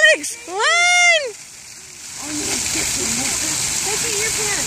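Water splashes and sloshes continuously in a municipal court fountain, a steady wash under a child's high-pitched shouts and chatter at the start and in the background.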